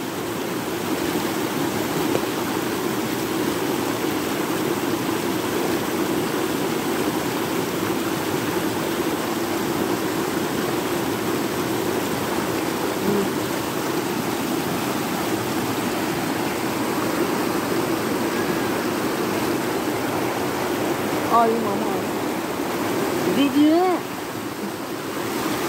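Steady rushing of the Neelam River's cold mountain water in Kashmir fills the whole stretch, loud and continuous, with a few faint clinks near the end.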